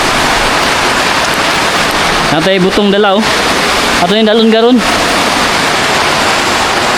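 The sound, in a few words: heavy rain pouring on plants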